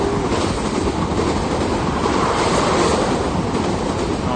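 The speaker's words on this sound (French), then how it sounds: "Encore un petit train, on fait tchou-tchou." A small train rumbles past close by, a dense, steady roar of wheels and rushing air that stays loud and even from start to finish with no voices.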